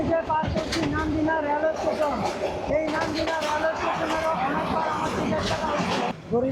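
The 707 Tista Express, running from Dhaka to Dewanganj, rolls along the rails past Nandina railway station. Its steady rumble of wheels fills the carriage beneath constant passenger chatter and voices.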